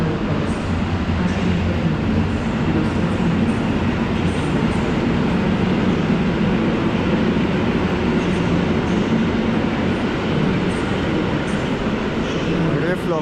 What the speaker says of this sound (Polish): Pociąg kolejny.